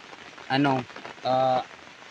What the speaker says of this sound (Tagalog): grabe na yung ulan, walang tigil yung ulan